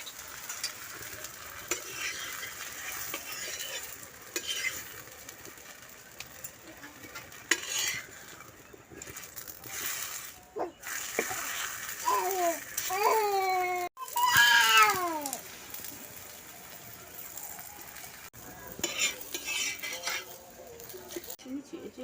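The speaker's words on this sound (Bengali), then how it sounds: "তেল দিয়ে ভেজে নিচ্ছি" Pea-stuffed paratha frying in oil sizzles continuously at a low level, with scattered clinks of a spatula and pan, and a cat meows in short rising cries partway through.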